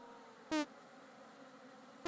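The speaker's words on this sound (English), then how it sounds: "Am I being hurt by the bees?" Two brief buzzing bee sounds from a blocky survival video game server, each a short, soft burst separated by quiet near-silence, with no talking.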